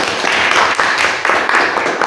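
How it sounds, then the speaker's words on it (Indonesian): Audience at a school principals' education event in Lebak clapping in unison, a few seconds of steady group applause with rhythmic bursts. "Tepuk buat kita semua"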